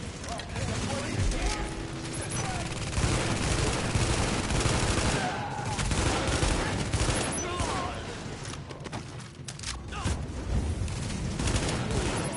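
Sustained bursts of gunfire from The Division video game, rapid shots rattling throughout over continuous game noise, with a voice talking over the action.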